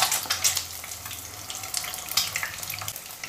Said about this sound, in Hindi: अब इस अंडे को मैंने ब्राउन होने तक पकाऊंगी।